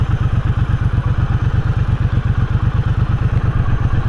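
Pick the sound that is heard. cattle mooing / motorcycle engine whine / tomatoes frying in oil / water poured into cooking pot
motorcycle engine whine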